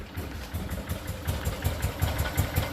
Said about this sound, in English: it's got a pretty low idle. I don't know if she's going to keep running.